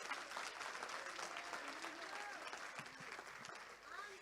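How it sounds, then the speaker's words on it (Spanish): Church congregation applauding loudly and steadily, a dense wash of clapping from many hands lasting the whole stretch with a few cheers mixed in. "aplauso al Señor, dáselo fuerte."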